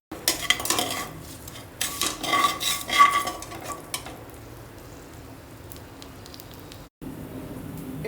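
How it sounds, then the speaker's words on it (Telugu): Mustard seeds, cumin, urad dal, garlic cloves and asafoetida frying in hot oil for tempering. A metal spoon scrapes and clatters in the pan in bursts, then a soft sizzle continues alone. "పోపును వేగనిద్దాము"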